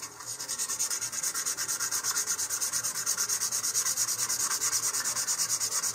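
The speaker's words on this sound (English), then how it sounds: "here I am going to go ahead and give this a light sanding" Sandpaper giving a light, steady sanding to an Estes Alpha model rocket nose cone, a fast, even rubbing rasp repeated in quick regular strokes, close and alone.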